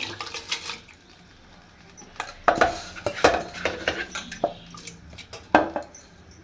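Rice and curd go into a cooking pot for egg biryani, with scattered clinks and scrapes of utensils against metal and a few soft wet splashes, fairly close and moderately loud.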